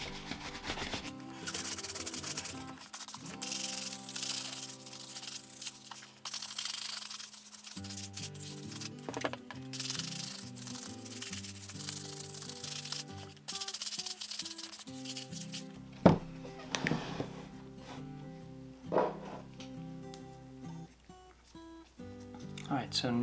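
Leather wingtip shoes, freshly touched up with cream polish after their peeling acrylic clear coat was removed, are brushed in brisk, scratchy strokes at close range. Steady background music plays throughout.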